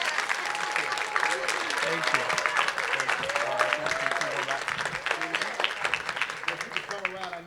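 Audience applause fills a room at an oath-of-office swearing-in ceremony, continuous clapping at steady volume while voices talk briefly underneath.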